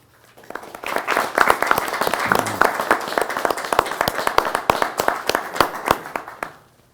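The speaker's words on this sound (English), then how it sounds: "I don't think I deserve applause" An audience claps for a speaker being introduced at a talk on creativity and playfulness in the Ignatian tradition, applause swelling quickly, holding dense and loud with crisp individual claps, then fading out.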